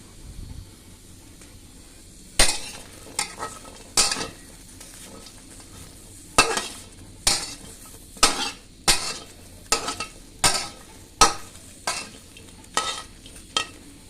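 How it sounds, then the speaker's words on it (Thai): Dried chilies are dry-roasted in a pan, heard as a soft hiss under a regular series of sharp spatula scrapes and taps against the metal, close and clear with no talking. "เริ่มจากเราคั่วพริกครับ"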